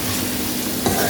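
Ginger, garlic and whole spices sizzle in hot oil in a karahi while being stirred, a loud, close, steady frying hiss with scraping stir sounds.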